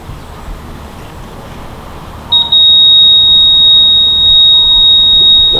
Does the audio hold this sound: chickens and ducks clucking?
no